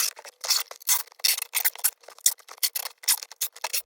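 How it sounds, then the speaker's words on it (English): Tape is pulled off the roll and wrapped around an object on a narrowboat: brisk, rasping tearing and stretching bursts in quick irregular succession, close and fairly loud, with no talking. "Now to tape it the other way round."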